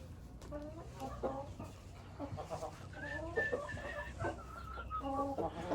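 Sussex chickens in a coop cluck and call repeatedly in short, overlapping bursts, fairly close, over a low background murmur.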